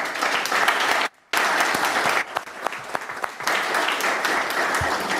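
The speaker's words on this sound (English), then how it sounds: "Let's give these volunteers another round of applause." A city council chamber audience gives volunteers a round of applause: dense, sustained clapping with a brief pause near the start, then continuing strongly with little talk.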